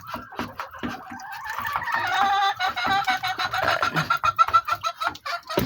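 A chicken clucks and squawks in a burst of busy, close calls mixed with rustling and flapping, growing louder and more agitated toward the end, with no talking.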